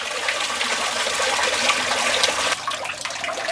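A koi pond waterfall and two water returns give a loud, continuous rushing gush that shifts slightly near the end, close with no talk.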